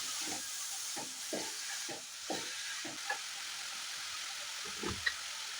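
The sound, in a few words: cabbage and onion sautéing in a pan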